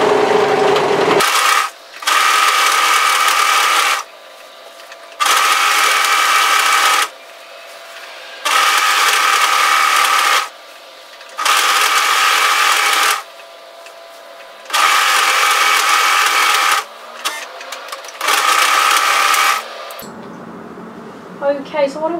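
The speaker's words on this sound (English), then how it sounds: "I'm just going to go to my overlocker and serge edge tidy that" An overlocker serges a fabric edge on a robe in bursts: six runs of loud, steady whirring, each a couple of seconds long, separated by near silence, with a short rustle of handling at the end.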